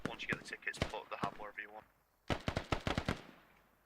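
Rapid bursts of AK rifle fire from a video game, sharp repeated shots in two clusters with a pause between, mixed with a commentator's voice during the first half.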